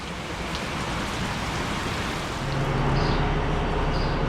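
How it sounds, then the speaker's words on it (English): Heavy rain pours steadily on a farm, a dense, continuous broadband roar that swells slightly louder toward the end, with no voices. "With it raining this hard"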